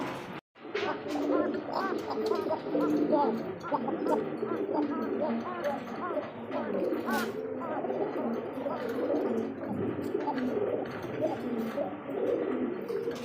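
A pair of Koka pigeons, male and female, coo steadily and repeatedly at close range, their soft rolling calls overlapping throughout.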